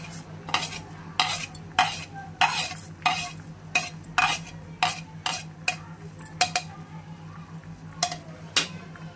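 Fenugreek seeds being stirred in a pan of hot oil, a utensil scraping in steady rhythmic strokes about once a second over a faint background hum, close and fairly loud.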